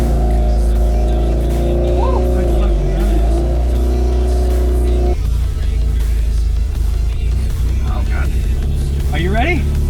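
Mazda RX8 fitted with a hybrid Renesis rotary engine, idling with a loud, steady low rumble, then a shift in tone and a few rising revs as it sets off on a neighborhood drive, with people talking excitedly over it.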